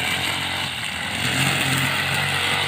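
A lawn mower engine runs steadily up close, a loud buzzing drone with a rough, slightly uneven throb and no voices over it.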